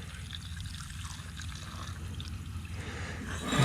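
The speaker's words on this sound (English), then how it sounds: "Go ahead and pour all that in there." Liquid is poured into a removed gas tank from a Kawasaki Vulcan 1600 motorcycle, a steady low gurgling pour that swells near the end, close and continuous with no talking.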